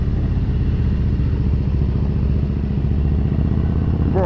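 Steady, loud rumble of a Harley-Davidson motorcycle being ridden with a passenger, the deep engine pulse continuous and close throughout with a little mechanical clatter and no talking.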